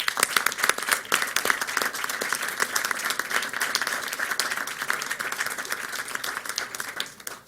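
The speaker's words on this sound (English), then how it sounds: "I want to just start by giving them a round of applause." A room claps for departing members at a school board meeting, with sharp individual hand claps over a fuller bed of applause that starts strong and tapers slightly toward the end.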